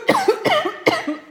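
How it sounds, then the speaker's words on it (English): A COPD patient coughs hard four times in a clinical assessment, each a loud close burst with a trailing wheezy, prolonged tail, and nobody talks during it. "Can you just take a big deep breath and cough for me?"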